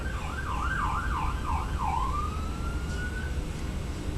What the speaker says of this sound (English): they always hear sirens out here